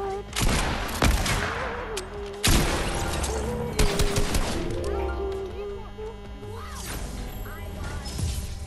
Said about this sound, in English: I just got shot. I'm being shot.